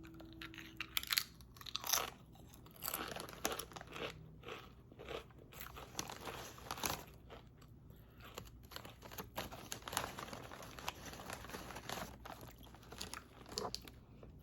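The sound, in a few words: crunching Doritos chips being eaten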